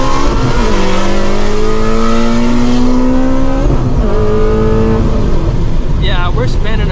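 A supercharged car launches on Nitto NT555R2 drag radials, its engine roaring loud and close with rising and falling harmonics as the tires spin, people shouting over it.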